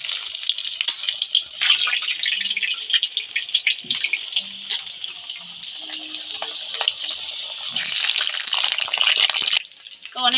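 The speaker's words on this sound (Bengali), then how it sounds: "এবার আমার তেল এদিকে গরম হয়ে গেছে," Potatoes frying in hot oil, a bright, continuous hissing sizzle with crackling pops, loud and close, briefly dropping off near the end.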